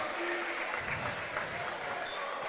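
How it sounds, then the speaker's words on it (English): A high school basketball homecoming crowd roars and claps in disapproval after an intentional foul on a fast break, a dense, sustained wash of cheering and applause, with a commentator's voice over it. "Crowd not liking that foul there"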